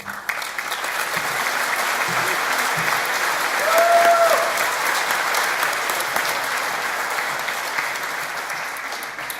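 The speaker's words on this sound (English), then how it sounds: "Some excellent cheering, really good whooping as well. It was good claps as well" A graduation ceremony audience bursts into sustained applause with some cheering, a dense, loud wash of many hands clapping that swells in the middle and then gradually tapers off.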